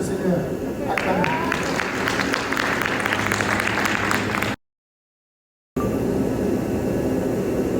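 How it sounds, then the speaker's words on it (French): A church congregation clapping and cheering, a dense, continuous wash of applause with voices mixed in, broken by a short stretch of dead silence before the crowd noise resumes. "Je vous demanderai d'acclamer pour le Seigneur. Acclamez."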